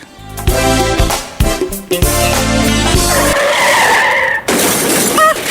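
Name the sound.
car skidding and crashing into another car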